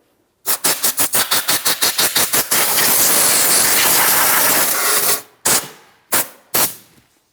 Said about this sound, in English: And now we can use some compressed air.